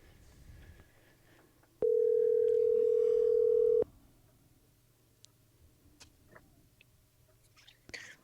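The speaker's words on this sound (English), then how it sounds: "I hear a phone ringing. it's ringing." A single steady electronic telephone tone sounds for about two seconds, loud and close, then stops, leaving a quiet room with faint clicks.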